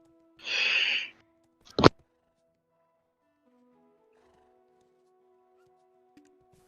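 A short, bright horse whinny from a video game as the horse is killed, followed by a sharp percussive thump, then near silence with faint low game tones.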